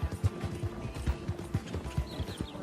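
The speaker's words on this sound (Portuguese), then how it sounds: "E agora o cavalo tá correndo pra caramba." Horse galloping in Red Dead Redemption 2, hooves striking the ground in a quick, regular drumming rhythm, close and prominent throughout with no voices.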